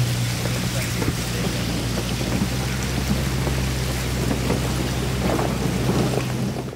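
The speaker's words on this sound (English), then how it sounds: "Just listen to the sound of the Zodiac sailing through the slush." A Zodiac inflatable boat pushes through icy slush in remote Eastern Greenland, with a steady low motor hum under constant hissing, crackling ice and water, close and loud throughout.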